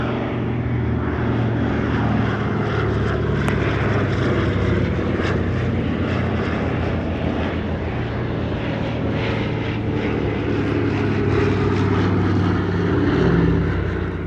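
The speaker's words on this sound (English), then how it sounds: "Two examples of the C-47 also flew past, although one of them has been converted into a civilian specification" Douglas C-47 / DC-3 propeller aircraft flying past at the Shellharbour airshow, a loud, steady piston-engine drone with a broad rumble that swells slightly toward the end, heard alone with no talk.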